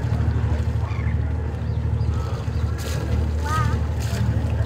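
A dolphin cruise boat under way on Jervis Bay, a steady heavy low engine drone with wind and water rush throughout, with voices talking over it.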